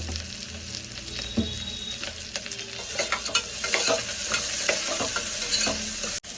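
Onions fry in a pan with a steady close sizzle, broken by repeated stirring scrapes of a spatula against the pan, moderately loud and continuous throughout.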